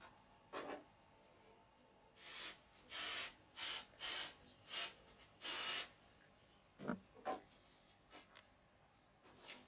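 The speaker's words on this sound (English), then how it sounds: "We're going to spray it." A series of close, sharp aerosol spray bursts onto fabric, about six in a row, with quieter rubbing and handling noises before and after.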